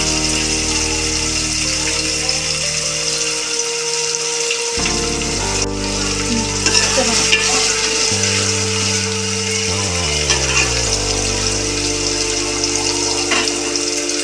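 Onions fry in oil for a fish curry, giving a continuous loud sizzle with a watery hiss and occasional stirring, close up, while a low steady tone shifts pitch underneath; no voices.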